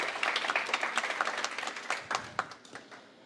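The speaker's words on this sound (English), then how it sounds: "So let's give that person another round of applause" Audience at a summit breaks into applause, a dense burst of many hands clapping that gradually thins out toward the end.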